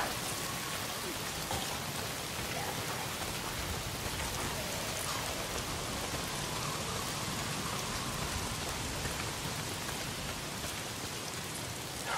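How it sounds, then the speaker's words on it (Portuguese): Steady, dense rainfall in a video game (Days Gone) hisses evenly throughout, a constant wash of drops with no voices or breaks. "Tá sempre chovendo."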